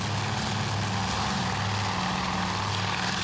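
Propeller engines of torpedo bomber aircraft in a World War II Coral Sea naval battle video game, a loud, steady droning roar with a low throbbing hum, continuous and close with no talk.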